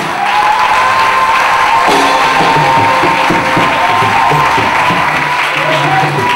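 A church congregation acclaims and applauds the Lord Jesus, with sustained loud clapping and cheering from a large crowd, a voice heard over the roar.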